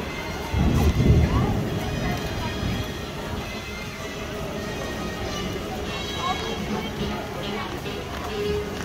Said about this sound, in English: it's just thunder and lightning